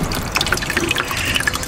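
A new solar pump runs submerged in a garden water butt, sending up continuous busy bubbling and gurgling close by. No one speaks.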